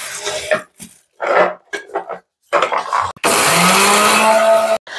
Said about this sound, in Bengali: এটা একটু আগে প্রথমে পেস্ট করে দেবো মিক্সারে।